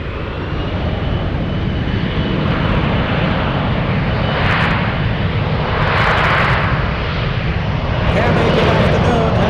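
A Boeing 747 rolls along the runway at San Francisco, a loud, continuous engine roar with rumbling low end and surging bursts of higher noise, a voice talking over it.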